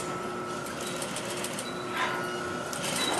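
A sewing machine stitches a seam very close to the fabric edge, a steady fast whirring hum that runs throughout at moderate loudness, with small surges in speed.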